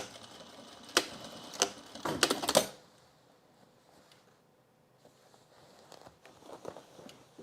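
Sewing machine back stitching through denim on men's jeans, a few sharp, close mechanical bursts early on with a dense clattering run near the middle, then quieter ticks and light handling noise.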